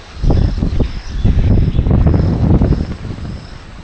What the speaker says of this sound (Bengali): দেখেন কি পরিমাণ বাতাস হইতেছে